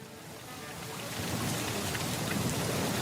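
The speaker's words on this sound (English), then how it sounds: "Suddenly, heavy rain started falling." Heavy rain pours down steadily, a dense broadband hiss that builds over the first second and then holds loud and constant, with a low rumble underneath and no voices.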